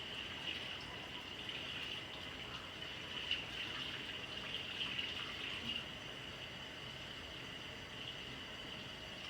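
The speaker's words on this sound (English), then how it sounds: "Rinse my hands." Running tap water flows steadily over hands being rinsed, a continuous moderate splashing hiss at close range with small bursts of spatter, with no voices.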